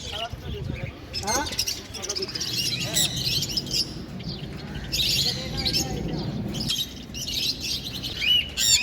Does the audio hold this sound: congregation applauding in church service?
no